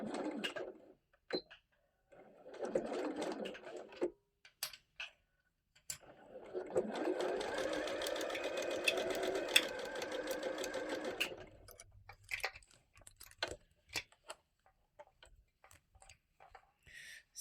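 Domestic sewing machine stitching a lining-to-gusset seam on a fabric storage caddy, running in two short bursts and then one long steady run of about six seconds, close and clear, with quiet handling ticks in between.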